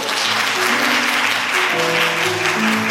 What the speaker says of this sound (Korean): 중학생, 중등부 여러분들 박수 쳐주세요.